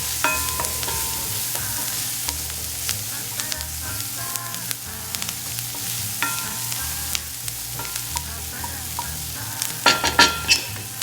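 Onions and garlic seasoned with white pepper and nutmeg sizzle in a pan, with a constant frying hiss under repeated scraping and clattering stirs that grow sharper and louder toward the end.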